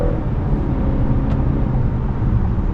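A 2024 Acura TLX Tech with a 10-speed automatic accelerates onto a highway, a steady loud low engine and road drone heard from inside the cabin, continuous with no voices.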